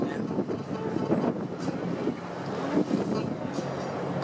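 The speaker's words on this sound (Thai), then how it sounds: "เรือกำลังวนรอบเลย" Tour boat circling on open water off Tamsui, Taiwan, a steady engine drone under gusty wind buffeting the microphone, continuous and moderately loud, with faint voices in the background.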